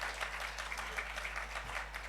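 Audience applause at the IIFA Awards 2025 ceremony, a dense steady patter of many hands clapping at moderate level, with faint crowd noise beneath and no speech.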